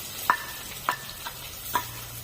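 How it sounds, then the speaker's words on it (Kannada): Onion frying in a hot tempering for a mushroom curry gives a low, quiet hiss, punctuated by three distinct metallic clinks of a spoon against the pan. "ಹಾಗೆ ಈಗ ಒಂದು ಈರುಳ್ಳಿಯನ್ನು ಒಗ್ಗರಣೆಗೆ ಹಾಕ್ತಾ ಇದ್ದಾರೆ ಅಮ್ಮ."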